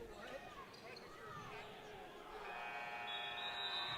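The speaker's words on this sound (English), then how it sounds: "There's the final buzzer" The final buzzer sounds at the end of a high school boys varsity basketball game, a sustained electronic tone rising over crowd noise and commentary in a gym.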